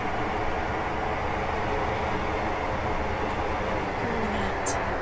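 A train in the video game Stepford County Railway rumbles along steadily with continuous broadband noise and low clatter, loud and close throughout, with a faint high whine near the end.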